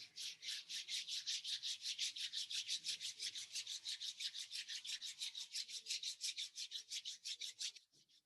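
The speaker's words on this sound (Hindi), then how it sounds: "अपने दोनों हाथ आपस में रब कर लें।" Two hands rubbing briskly together, a steady fast rhythmic swishing of skin on skin repeated many times, close and clear in a quiet room before stopping.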